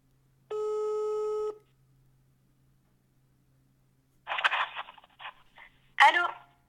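A single steady telephone tone lasts about a second, followed by silence, then bursts of a voice coming over the phone line later on.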